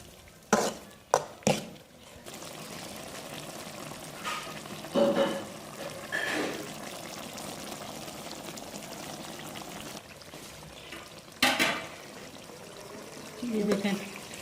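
Goat liver (kaleji) fried with spices and roasted cumin in a pan, giving a low background sizzle broken by several sharp utensil clanks and scrapes, some in quick clusters, with occasional pouring and handling noises.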